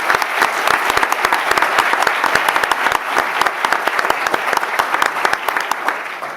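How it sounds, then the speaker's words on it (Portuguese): A congress audience applauds the speakers at a digital law event, sustained crowd clapping with crisp individual claps standing out, loud and close, filling the whole stretch. "uma salva de palmas para os palestrantes"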